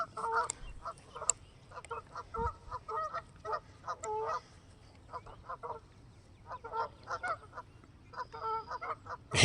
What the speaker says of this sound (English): Sorry you guys can't hear anything of these geese. They're so annoying.